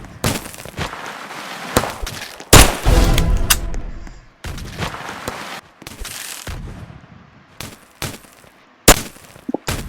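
Gunfire in the video game Pistol Arena: loud pistol shots crack in scattered bursts and single reports, some close and sharp, others clustered rapidly, with brief pauses between volleys.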